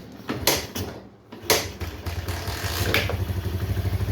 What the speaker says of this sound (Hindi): तो चलिए बाइक को स्टार्ट करते हैं